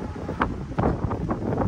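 Gusting wind buffets the microphone outdoors in a chicken yard, a steady low rumble with louder bursts near the start and middle, no voices present.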